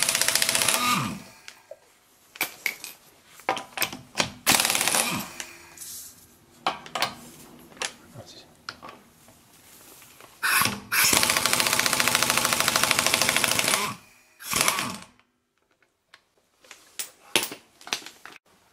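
An impact wrench on a 19 mm nut removes a wheel from a 2001 Ford Puma 1.7, sounding in loud rattling bursts of varying length separated by pauses and clanks of handling.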